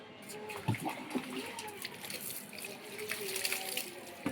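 Water splashes and pours in uneven bursts while a drunk husband is bathed at home, faint and close, with voices talking over it.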